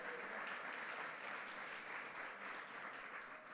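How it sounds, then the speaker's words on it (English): Sustained audience applause at a Celebration of Leaders 2019 gathering, heard as a soft, even wash of many hands clapping that holds steady and eases slightly at the end. "Give Dawn a round of applause."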